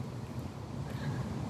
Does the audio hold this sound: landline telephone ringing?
no